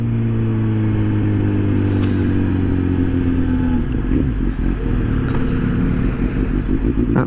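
A Suzuki GSX-S 750 motorcycle engine pulling in second gear, a loud steady drone with a rising pitch as the bike accelerates, heard close and continuous with no talking.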